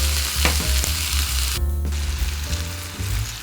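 Pork cubes with salt and banana ketchup sizzle and fry steadily in a pan, with scattered stirring scrapes and clacks of a utensil mixing the pieces, close and fairly loud with no voices.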